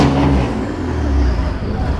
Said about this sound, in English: Excessive revving.